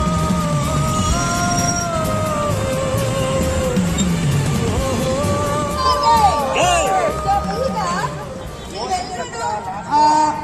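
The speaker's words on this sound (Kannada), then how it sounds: "ಇಲ್ಲಿ ಪಬ್ಲಿಕ್ ಕ್ರೌಡ್ ನೋಡಿ ಯಾವ ರೇಂಜಿಗಿದೆ" A large public crowd gathers at Appu's memorial, filling the air with dense babble, scattered shouts and whoops. Nearby voices talk over the continuous crowd noise.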